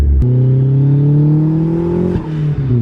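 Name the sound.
turbocharged car revving with blow-off valve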